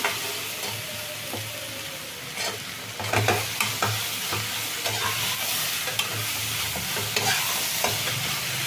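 Okra frying in a pan makes a dense, constant hiss and sizzle, close and loud, with occasional sharper scrapes and knocks of a spoon stirring it about.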